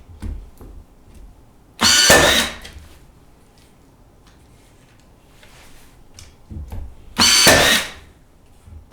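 A Ryobi 16-gauge AirStrike cordless finish nailer fires twice, each shot a loud sharp bang with a brief whirring mechanism, separated by several seconds of near-quiet handling.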